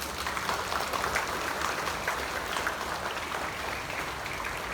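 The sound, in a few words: applause for class 6C at flag ceremony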